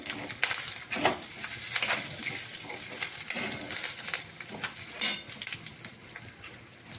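Curry leaves tossed into a pan of frying dal and green chillies give a steady close sizzle with crackling bursts and a few stirring scrapes throughout.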